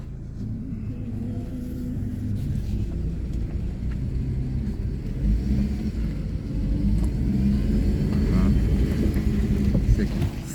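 A car moving at low speed during a driving lesson at a driving-school practice ground, with a steady low engine rumble that swells slightly toward the end, while an instructor talks over it.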